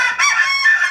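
An aggressive homestead rooster lets out a loud, harsh, drawn-out crow lasting about a second, close to the listener with no other sounds.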